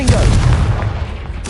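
Confringo explosion spell cast in Hogwarts Legacy, heard as a heavy booming blast with a low rumbling tail that fades over about a second, ending in a sharp crackling burst.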